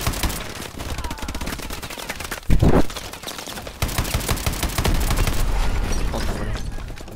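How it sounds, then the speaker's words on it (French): Gunfire in the shooter game Advanced Warfare: dense rapid bursts of automatic fire crackle throughout, with a heavier boom near the middle and sustained volleys afterward, loud and close. "Et on me tire dessus mais je sais pas d'où."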